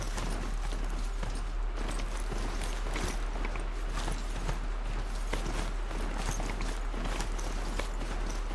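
Steady clip-clop of a robotic mount's hooves in the video game Horizon Zero Dawn at a quick trotting rhythm, close and continuous, with no talking.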